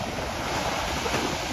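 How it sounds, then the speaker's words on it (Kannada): Heavy sea waves crash on Kochi beach in rough, rainy weather, a loud continuous roar of surf close by with wind noise, no voices. "ನೋಡಿ ಎಷ್ಟು ಅಲೆ ಹೊಡಿತಿದ್ದಾವೆ"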